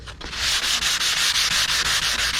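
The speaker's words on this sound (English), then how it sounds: "I'm sanding here, but it's low here. So I just keep sanding until that's gone." Sandpaper wrapped on a flat block rubs back and forth by hand, a loud, close, steady scratchy hiss with regular stroke pulses, no voices.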